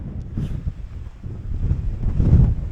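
Strong wind buffets the microphone during a bike ride on the La Vella loop in the mountains near Alicante, a low, rumbling roar that gusts and swells throughout, with no voices.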